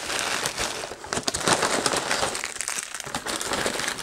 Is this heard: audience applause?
no